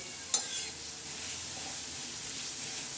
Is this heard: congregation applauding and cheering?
no